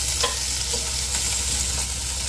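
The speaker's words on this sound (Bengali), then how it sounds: "দিয়ে এবার একসাথে গাওয়া ঘিয়ে ভেজে নিচ্ছি।" Cashews fry in hot ghee over a low flame in a pan, giving a steady close sizzle with faint scraping stir strokes running through it.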